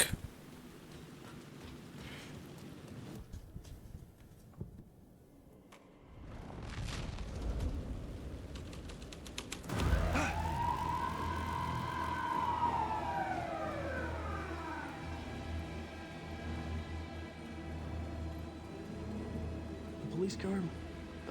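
Police car siren in the video game Alan Wake 2, a rising and falling wail that swells loud after a rumbling blast, sustained over ambient game noise with a brief later chirp.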